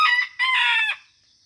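A wild junglefowl (labuyo) rooster crows once, close and loud, a short two-part call with a brief break before the drawn-out second half, then silence.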